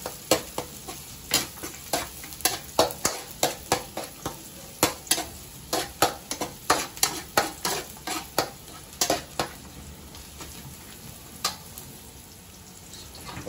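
Garlic sautéing in a pan for a birthday meal, a soft sizzle under a quick run of sharp metal clinks and scrapes from stirring, close and fairly quiet, with no voices.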